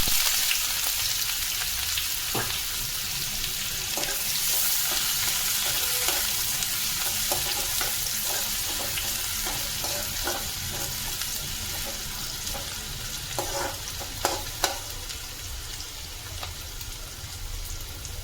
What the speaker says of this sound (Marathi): यात आपण खडे मसाला कांदा घालूया याच्यामध्ये